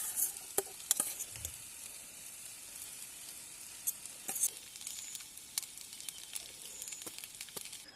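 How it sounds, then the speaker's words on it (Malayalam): Vermicelli (semiya) frying in a pan at a solo campsite, a thin steady sizzle with scattered stirring scrapes and light taps, close and fairly quiet, no talk. "നമ്മൾക്ക് ഈ സേമിയ ഒന്ന് ഫ്രൈ ചെയ്യണമായിരുന്നു"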